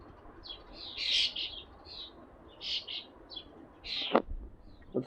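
Small birds near a bird seed feeder give several short, bright chirps and tweets at moderate distance over a steady low background hiss, with one sharper call toward the end.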